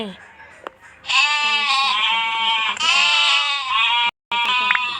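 Bleating sheep in the block-building video game Mini World, a run of loud, wavering cries held for several seconds near the listener, briefly cut off by a gap before resuming.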